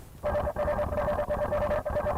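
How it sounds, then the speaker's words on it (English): A rapid electronic warbling beep from a swarm of robot dogs communicating, pulsing in short bursts with brief gaps, sharp and close, sounding like synthetic chatter. "You may also hear the swarm communicate,"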